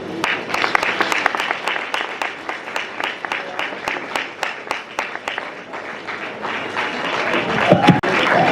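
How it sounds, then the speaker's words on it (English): An audience at an award event applauds a winner, clapping in a loose rhythmic beat of distinct sharp claps throughout, with a brief voice heard near the end. "Let's give her another round of applause, ladies and gentlemen."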